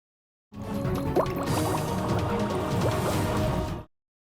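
Water bubbling and gurgling in a steady, continuous stream with liquid drips and small splashes, fairly loud and close, running alone without talk for about three seconds.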